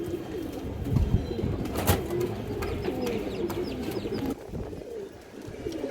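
A male and female Giribaz Sobuj pigeon pair coo continuously in soft, rolling low warbles, close by, with a few sharp clicks and rustles mixed in.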